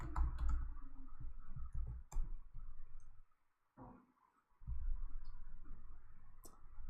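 Keyboard shortcut clicks while editing code in Sublime Text: a quick run of sharp, close clicks and taps over a low background hum, with a brief quiet gap midway before the clicking resumes.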